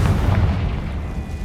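A Confringo blast spell in Hogwarts Legacy lands as a single loud, low, booming explosion that rumbles and fades quickly, with no talk over it.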